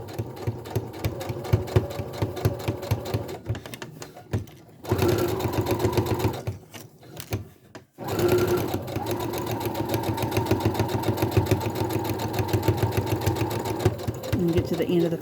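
A sewing machine runs in steady bursts while stitching fabric for a beginner boxy zipper bag, its rapid mechanical whirr pausing briefly twice before resuming, with a person talking over it.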